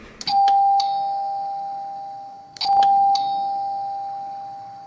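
A two-tone doorbell chimes twice at a house door, each ding-dong ringing out clearly and decaying slowly, with no talking over it.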